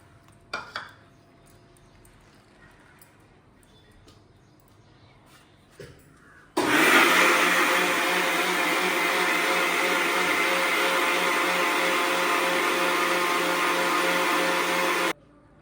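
A kitchen mixer grinds coconut and perandai into a paste for pumpkin mor kuzhambu, starting abruptly after a few faint clinks and running as a loud, steady whirring drone for about nine seconds before cutting off.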